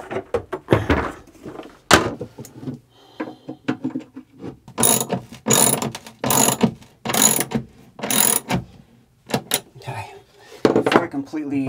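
A ratchet clicks in quick bursts while bolts are tightened during an Airhead composting toilet installation, the ratcheting close and rhythmic between intermittent talk and handling noises.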